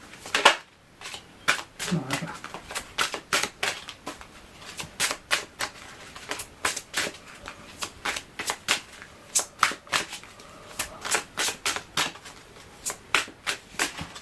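Tarot cards are shuffled and drawn by hand, giving a long run of crisp, rapid riffling flicks and snaps up close, rhythmic bursts spread evenly across the clip with a faint voice underneath.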